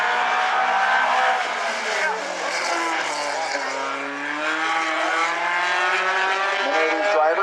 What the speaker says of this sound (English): Next car out onto the Speedway.